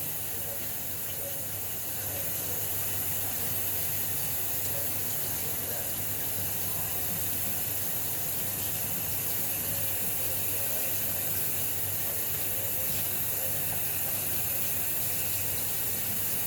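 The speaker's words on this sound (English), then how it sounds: "Clean the inside, the outside. Rinse it off." A juicer rinsed under a running kitchen tap: a steady, even hiss of flowing water that runs throughout, close and unbroken, with no voices.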